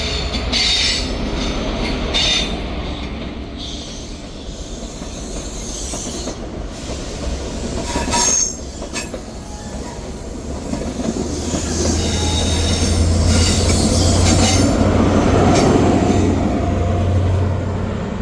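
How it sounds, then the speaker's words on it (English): A ScotRail passenger service leaving Dundee for Aberdeen rumbles loudly nearby, with wheels clicking over rail joints, high squeals and a sustained engine drone that builds toward the end. "Departing out now is the 1402 Scotrail service from Glasgow Queen Street to Aberdeen."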